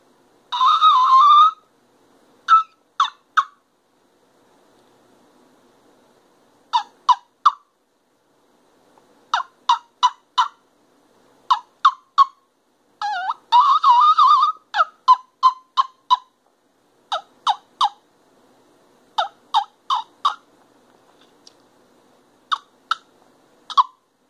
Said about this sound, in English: Now, for a yelp, you got to get the high key note and then drop it off.